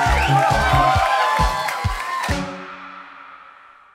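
A concert audience cheers and shouts loudly for a support band, with heavy thumping hits under the crowd noise before it fades away over the last seconds.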